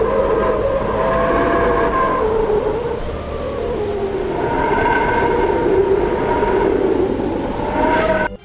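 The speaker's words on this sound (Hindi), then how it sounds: "ये ऑडियो सूर्य के थोड़ा और करीब जाकर वहाँ पर गैसों में आने वाले परिवर्तन से रिकॉर्ड की गई है।" A Parker Solar Probe recording of gas waves near the Sun: an eerie, wavering tonal drone slowly swells and fades, its pitch sliding up and down in long undulating sweeps over a steady rushing noise.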